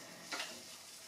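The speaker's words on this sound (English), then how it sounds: "You can hear it sizzling." Soft, steady sizzling hiss with a couple of faint clinks, quiet and close, no voices.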